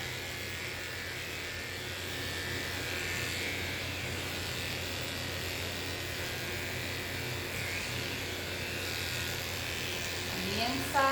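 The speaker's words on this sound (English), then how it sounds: "I'm going to lift the leg up a little bit and go and shave the front of the leg all the way down to the pad" Electric clippers buzz steadily and close-up while shaving the leg of a small dog during grooming, a continuous hum that runs throughout.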